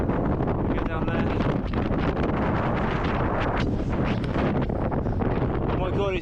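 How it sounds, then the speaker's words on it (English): Strong winter wind buffets the microphone at a hilltop viewing point along a bikepacking route, a loud continuous roar with gusty rumble and brief speech breaking through. "it's windy up here"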